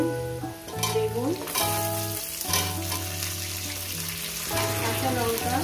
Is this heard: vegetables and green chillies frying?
yes